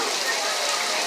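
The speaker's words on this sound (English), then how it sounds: "And then, of course, we have the rain." Simulated rain from sprinklers on a Hollywood studio tour ride makes a loud, steady, dense hiss of falling water, unbroken throughout.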